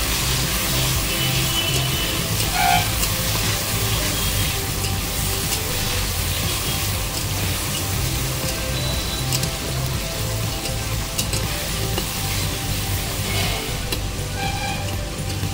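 Pumpkin flowers frying in plenty of oil in a pan, giving a steady dense sizzle that holds evenly throughout, close and fairly loud with no talking.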